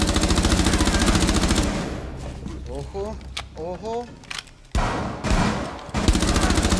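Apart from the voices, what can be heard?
gunfire in the video game Rainbow Six Siege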